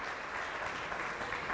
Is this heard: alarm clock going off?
no